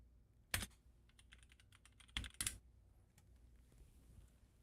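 Number keys are tapped on a computer keyboard in a workshop, with a few sharp clusters of keystrokes and lighter scattered taps in between, close and fairly quiet.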